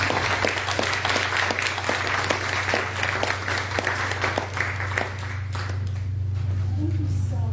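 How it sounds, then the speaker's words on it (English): Audience clapping at a graduation ceremony for a business cohort, honoring a woman named Lori; steady applause over a low hum, with a voice speaking over it. "let's clap for Lori"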